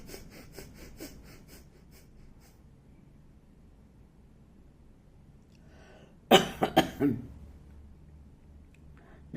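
A burst of several harsh coughs in quick succession, loud and close, after a stretch of quiet breathing during Kapalbhati pranayama breathing practice.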